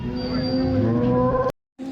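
A cow moos at a cattle market in Modnimb: one long, steady, droning low moo fills the first second and a half, breaks off into brief silence, then starts again. No one speaks.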